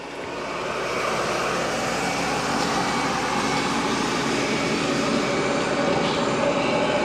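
Eufy 11S Max robot vacuum running along a wall, a steady loud whirring motor and suction drone that swells in over the first second and then holds constant, close by.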